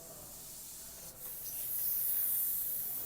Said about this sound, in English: I just gotta let a little air out like this.